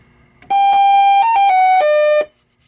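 A loud electronic start-up jingle from a 1977 Mattel Las Vegas pinball machine, bright, buzzy beeping tones in a short rising-and-falling melody, alone, ending abruptly.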